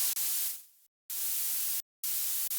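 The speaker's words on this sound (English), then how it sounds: "So we only have this high end, this high noise sound." High-pass filtered white noise synth layer in FL Studio, thin hissy bursts repeated three times with abrupt cuts and a fading tail on one, loud and alone.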